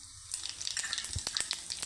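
Cumin seeds sizzle in hot oil already crackling with mustard seeds, a tempering for a traditional onion aamti: a close, steady frying hiss studded with sharp, irregular pops and crackles.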